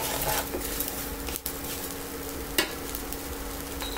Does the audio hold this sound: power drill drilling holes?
no